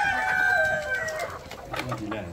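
Black Australorp hens on a Gujarat farm give close, drawn-out clucking calls, then scattered shorter clucks and squawks from several birds.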